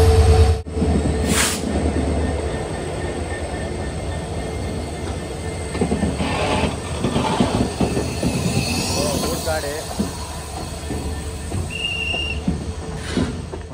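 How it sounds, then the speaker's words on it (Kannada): A train rolls slowly past on the track near Dudhsagar waterfalls, a steady close rumble of wheels and carriages with faint squeals and a brief whistle-like tone, while people talk over it. "ಟ್ರೈನ್ ಬರ್ತಾ ಇದೆ ಮಗ."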